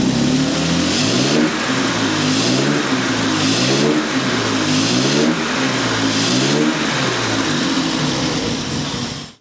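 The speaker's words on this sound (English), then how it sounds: "So if I crank up the engine, watch the pistons" A Jaguar XJ6 4.2-litre engine revs repeatedly, loud and close, its pitch climbing and falling in about six regular throttle blips before cutting off abruptly.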